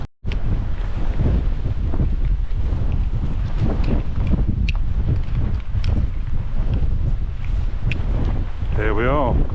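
Strong wind buffets the microphone in a continuous, loud roar on open moorland at the Barbrook Bronze Age stone circle in the Peak District, with a brief whistling tone near the end.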